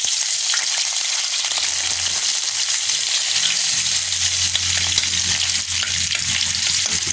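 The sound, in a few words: vegetables sautéing with onions in a pan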